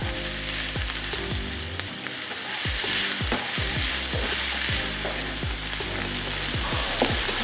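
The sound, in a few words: stirring and frying chicken mixture in a pan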